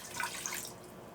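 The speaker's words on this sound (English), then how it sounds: "I may put a little more water in there" Water is briefly poured into an Instant Pot while cooking BBQ ribs, giving a short, close splashing trickle.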